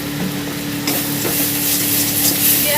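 Spice paste with turmeric being stirred in a hot pan, a continuous steady sizzle with soft scraping strokes of the spoon, close and fairly loud, no voices.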